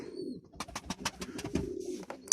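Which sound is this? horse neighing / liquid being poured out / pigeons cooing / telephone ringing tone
pigeons cooing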